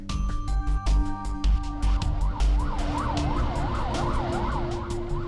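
An ambulance siren wails in a repeating rising-and-falling pattern, loud and close, over the rumble of the vehicle on the road, with sharp intermittent clicks.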